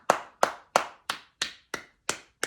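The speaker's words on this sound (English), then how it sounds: "Just one clap." Eight sharp, evenly spaced hand claps ring out, close and crisp, each with a short decaying tail, and no voices are heard.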